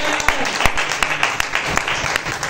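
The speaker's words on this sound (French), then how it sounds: "acclame pour Jésus" Congregation in a church clapping for Jesus, a steady crowd applause with sharp individual claps standing out, continuing without a break throughout.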